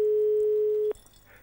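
A steady, single-pitched telephone line tone holds for just under a second while a call connects, then cuts off abruptly, leaving faint background hiss.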